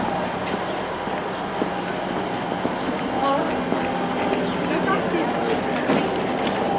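A passenger train rumbles into a station platform near Dronfield with steady, moderately loud rolling and clanking, brakes faintly squealing near the end, while people talk nearby.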